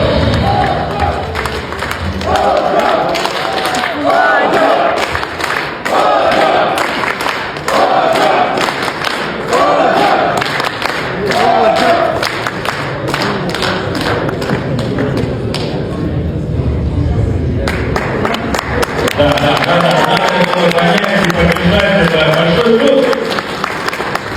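Large crowd cheering and clapping for Ghanaian footballer Kojo in Kyrgyzstan, loud and sustained, with rhythmic thumping claps and chanting bursts throughout, voices mixed into the din.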